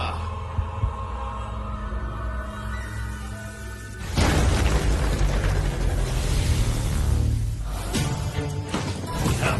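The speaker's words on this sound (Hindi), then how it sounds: "धमाका।" A deep, loud explosion erupts partway through, a roaring rumbling blast that lingers over a low droning background.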